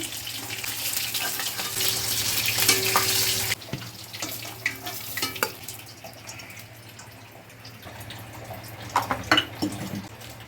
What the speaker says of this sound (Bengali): তেজপাতা ফোড়ন দিলাম গোটা জিরে